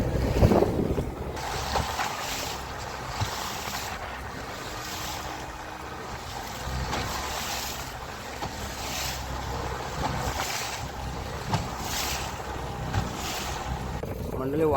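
Strong wind gusts and rough, choppy sea sound steadily aboard a fishing boat netting pomfret and mixed fish, with constant roaring wind buffeting the microphone over engine rumble and waves.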